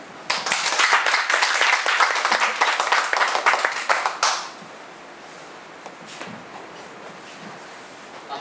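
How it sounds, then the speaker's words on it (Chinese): An audience at a health lecture applauds to welcome the speaker, a dense burst of clapping that lasts about four seconds and then stops abruptly. Quiet room noise follows, with a few faint stray sounds. "借我你的两只手啊，掌声鼓励欢迎何社长"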